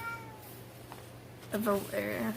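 A pet cat meows indoors, two short, fairly close calls rising and falling in pitch, heard alone over a quiet room hum.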